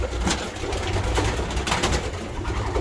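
Racing pigeons in a loft give low, steady cooing at close range, a continuous warbling murmur with no clear breaks and no voices over it.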